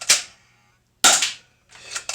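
Spring-loaded airsoft pistol fired indoors, giving three sharp snapping shots: two clean cracks about a second apart, then a third softer, more drawn-out pop, each with a short decaying tail.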